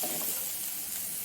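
Soft, steady sizzle of garlic frying in a pan, faint and continuous with no talk.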